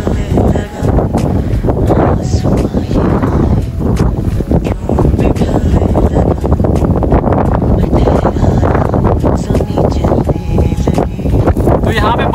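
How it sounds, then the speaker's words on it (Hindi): Strong, gusty wind buffeting the microphone atop the Rajgir glass bridge, a loud continuous roar with rumbling bursts throughout. "ज़्यादा तेज की हवा चल रही है"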